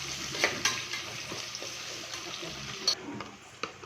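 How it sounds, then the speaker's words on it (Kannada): Ingredients for avarekalu rice bath fry in a pan, with a steady soft sizzle and a few scattered clinks and stirring knocks, close and moderately quiet. "ಇದನ್ನೆಲ್ಲ ಚೆನ್ನಾಗಿ ಫ್ರೈ ಮಾಡೋಣ"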